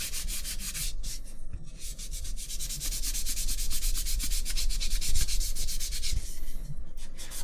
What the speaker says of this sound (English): Better do a good job of sanding the part of this ship where I'm gonna put the putty